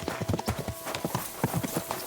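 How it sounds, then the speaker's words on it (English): Horse galloping at full speed in the medieval video game Kingdom Come: Deliverance II, rapid rhythmic hoofbeats thudding close and clear at a quiet level, with no talk over them. "Oh, I'm so glad I can ride the horse at full speed."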